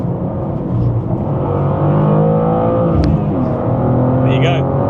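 A manual BMW G87 M2 engine pulls hard under acceleration, a loud, steady drone heard from inside the cabin, rising in pitch, with a voice talking briefly over it.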